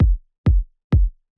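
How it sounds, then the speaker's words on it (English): Three dry electronic break kick drum hits with no effects land at an even, steady pulse, each a deep, punchy thump that decays quickly into silence, with a fourth beginning at the end. "So without the effects, the break kick sounds like this."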